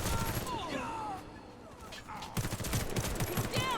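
Rapid bursts of submachine gun fire from a ZX84 SMG in the video game Warface, loud and sustained, with a short lull near the middle before a fresh stretch of fast shots.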